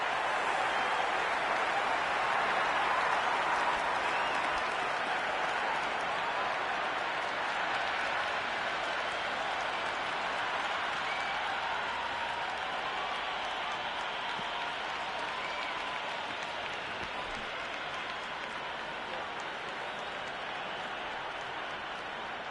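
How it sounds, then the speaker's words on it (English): A cricket crowd in the stands keeps up a steady, dense roar of applause and cheering throughout, broad and sustained without breaks, with a commentator's voice faint beneath it. "There's a buzz, a real buzz coming from the stands."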